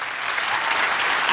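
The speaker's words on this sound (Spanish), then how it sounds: "Pero un aplauso para él." A studio audience on a comedy talk show bursts into dense, sustained applause, many hands clapping together loudly and evenly throughout.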